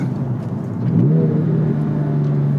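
A Porsche 997 aftermarket exhaust rumbles at idle, then revs up with a rising growl and holds a steady, loud drone close by.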